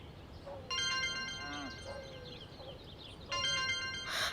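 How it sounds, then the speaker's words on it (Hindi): A phone ringtone plays a bright electronic melody in two bursts, with faint speech-like sounds and room noise in between. "बाबा का फोन है।"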